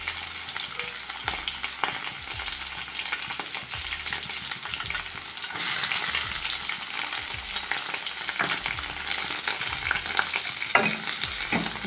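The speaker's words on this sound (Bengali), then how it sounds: "ভালো করে সুন্দর করে লাল লাল করে ভেজে নেব।" Chopped garlic and onion fry in a pan with a loud, continuous sizzle, broken by repeated scraping stir strokes of a spatula, all close up and with no voices.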